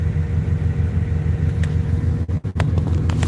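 A truck engine rumbles steadily at a low idle, close and continuous, with a couple of brief dropouts near the end and no talking.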